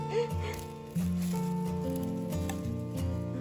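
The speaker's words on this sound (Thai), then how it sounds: "ฝนตกพี่น้องเอ้ย" Steady patter of rain falling in front of a rural house, with musical tones playing in the background throughout.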